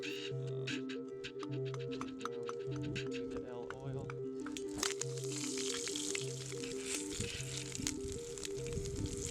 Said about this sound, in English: Little trout nuggets on the fire.